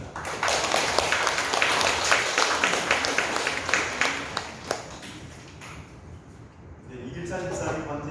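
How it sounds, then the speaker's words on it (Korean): A church congregation applauds together at a Sunday service following a fellowship event, dense steady clapping filling the room for several seconds before thinning out as a voice begins speaking near the end. "우리 서로 축복하는 마음으로 우리 박수하겠습니다."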